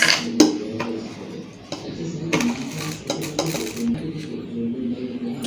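A spoon clinks and scrapes against a bowl while salt-boiled chickpeas are tossed with cucumber and chili flakes, giving a run of light, irregular metallic taps and rattles at close range under low room noise.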